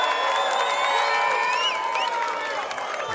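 A youth crowd at the Atlantic Youth Touch Cup 2025 opening ceremony cheers and whoops loudly, high excited voices layered with scattered clapping in a short continuous burst.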